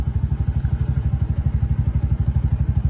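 Bajaj BS7 auto rickshaw engine idling with a fast, steady, loud chugging thump close by and no talk.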